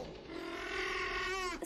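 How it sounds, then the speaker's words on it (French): Film sound effect built from a horse's breathing blended with a goose's call: a single strained, tonal cry with rising harmonics, close and loud, ending abruptly after under two seconds. "c'est le bruit de respiration d'un cheval et le cri d'une oie."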